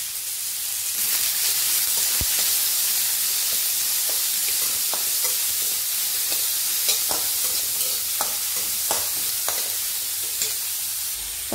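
Onions and pieces of coconut fry in a pan, a steady sizzling hiss running throughout with scattered crackles and pops, close and on its own without talk.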